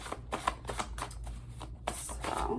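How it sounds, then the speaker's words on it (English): Handwritten message cards being shuffled by hand, a run of close, soft rapid riffles and flicks in irregular bursts. "If I shuffle real good one more time."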